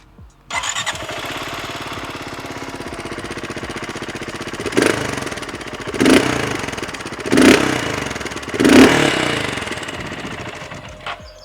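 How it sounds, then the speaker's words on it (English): BSA Scrambler 650 single-cylinder motorcycle engine idling with a steady low thump, then four spaced blips of the throttle that swell and fall back, close and loud throughout. "I quite enjoy the sort of thump, thump, thump that you get out of this engine when you're on the move"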